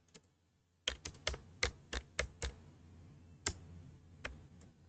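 Computer keyboard keys typed in irregular bursts of sharp clicks while entering an Excel formula, close and fairly loud over a quiet room hum.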